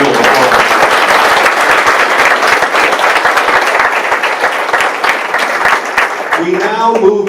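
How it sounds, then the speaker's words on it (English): An audience at an all-candidates' municipal meeting in South Stormont claps together in a sustained, dense round of applause that fills the hall, tapering off near the end. "Help with a collective round of applause."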